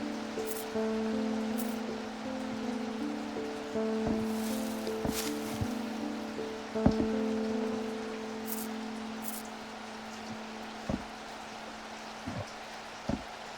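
Soft rain patters steadily in the Strange Antiquities video game ambience, a fine hiss with scattered sharper drips, and a low sustained musical hum runs beneath at a quiet level throughout.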